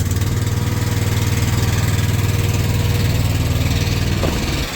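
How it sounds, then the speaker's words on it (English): A small gasoline engine, choke-started on a glass-hauling rig, idles loud and close with a steady low chugging throb that runs unbroken throughout, with no talk over it. "you pull out the choke, you click up the start. Push in the choke."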